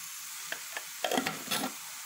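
Red pepper or paprika seasoning frying in oil for a savory filling makes a soft, steady sizzle, with a few light taps and scrapes of stirring near the end.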